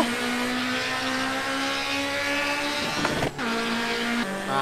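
A turbocharged 800 hp K24-swapped Honda Civic EG6 in a driving game drops a gear, its steady engine drone cutting out briefly with a burst of revs, then settling into a new steady pitch.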